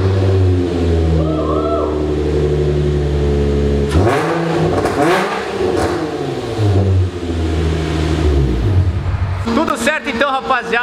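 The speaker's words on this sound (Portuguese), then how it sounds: "o motor já tá funcionando tudo direitinho" A Nissan 350Z drift car's engine fires up and settles into a loud, steady idle, then rises and falls through several revs before a sharp, higher rev near the end, with a voice speaking over it partway through.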